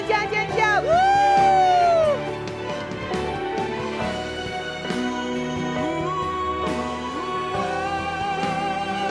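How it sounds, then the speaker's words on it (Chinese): A church congregation cheers for its elders after a sign-language worship performance, with loud whoops and high screams at first, then a lower sustained crowd roar and scattered shouts. "给我们的长者掌声加尖叫！"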